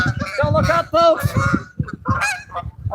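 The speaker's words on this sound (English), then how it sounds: "Duck geese incoming." A flock of geese honks overhead during a trout fishing outing, many loud overlapping calls close by and continuous, with no speech.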